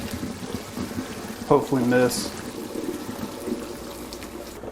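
A pot of beef pho broth is poured through a strainer in a home kitchen. A brief burst of splashing liquid rises and fades beside a person speaking.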